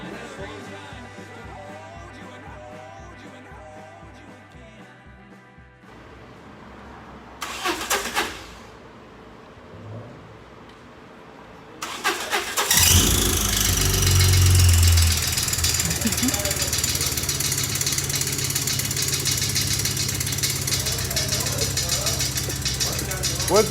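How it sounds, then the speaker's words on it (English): A rebuilt, cammed 2.0 engine in a swapped vehicle cranks with rhythmic starter chugs, then fires and settles into a loud, rough running roar close by. "I'm gonna turn this motor on"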